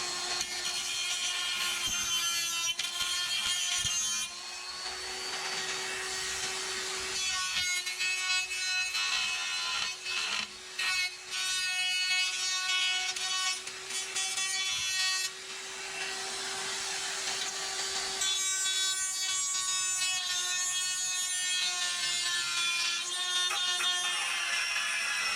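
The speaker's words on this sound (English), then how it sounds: "I'm going to use my rotary tool here to kind of clean this" A rotary tool cleans up a welded car body panel on a chop-top project, running as a steady, loud, high whine for about 25 seconds with a few brief dips and pauses midway.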